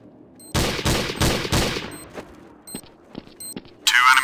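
Sniper rifle shots in Counter-Strike: Source on Dust 2, four loud close cracks in quick succession followed by fainter scattered distant shots and short clicks, ending on a bright metallic burst.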